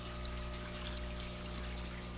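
Water circulating in an aquaponics fish tank, a steady low trickle and gentle flow under a constant pump-like hum, faint and unbroken throughout.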